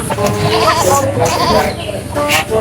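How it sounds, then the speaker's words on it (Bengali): A goat inside a sack bleats loudly nearby a few times, its wavering cries mixed with people talking close by. "ছাগলের ডাক শোনা যাচ্ছে ছাগলের ডাক"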